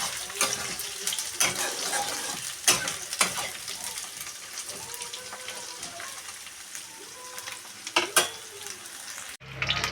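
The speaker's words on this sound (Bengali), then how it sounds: "এই পেঁয়াজ আর রসুনটা আমি একটু লালচে করে ভেজে নেব" Onion and garlic fry in oil in a wok with a soft, steady sizzle, broken by occasional stirring scrapes and brief louder crackles.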